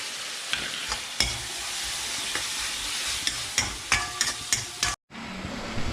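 Ginger garlic paste sizzling in hot oil while frying, a continuous hiss broken by sharp spoon scrapes and stirring clatter, with a brief cut to near silence before the frying resumes.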